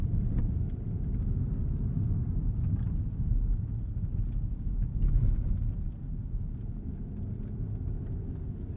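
A 2022 Rolls-Royce Ghost with permanent all-wheel drive gathers speed on a winter road, heard from inside as a steady low engine and road rumble that holds constant with a slight swell midway.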